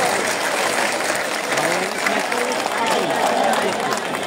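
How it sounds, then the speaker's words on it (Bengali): An outdoor political rally crowd in Khulna applauds to welcome the chief guest, with dense, steady clapping throughout, loud and close, under a voice on a loudspeaker. "আমরা খুলনা জেলার পক্ষ থেকে করতালির মাধ্যমে তাকে স্বাগত জানাই"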